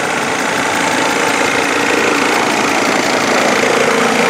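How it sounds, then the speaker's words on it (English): The 5-cylinder Mercedes-Benz turbo diesel in a 2004 Dodge Sprinter 2500 idles loud and close, a dense, steady clatter with an even knocking texture and no talk. "This is a 5-cylinder Mercedes-Benz turbocharged diesel engine."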